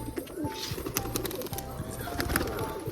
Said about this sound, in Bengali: আর এই খাঁচাতে কিছু পায়রা আছে, সেগুলোকে ছাড়বো